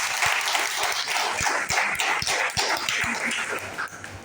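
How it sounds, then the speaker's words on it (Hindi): A seminar audience claps for a general store owner, a dense, loud burst of applause that carries on for several seconds and tapers toward the end. "सर के लिए जोरदार ताली होनी चाहिए।"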